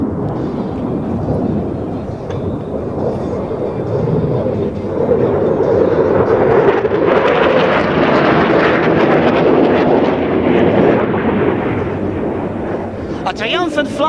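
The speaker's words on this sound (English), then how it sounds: "Triumphant flypast slicing through the air, just a whisper from the sound barrier." Eurofighter Typhoon jet making a high-speed flypast near the sound barrier at an air show: a loud, rumbling jet roar that swells into a broad, tearing blast and slowly fades, with announcer speech over it.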